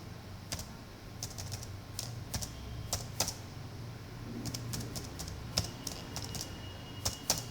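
Computer keyboard typing while code is being written, heard as scattered bursts of close keystrokes with short pauses between, over a low steady hum and no talk.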